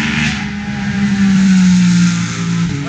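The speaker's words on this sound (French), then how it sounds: "encore une Porsche qui passe" A Porsche sports car roars past at a race circuit, its engine note building to a loud, sustained drone that swells and then eases off as it goes by, with no talking.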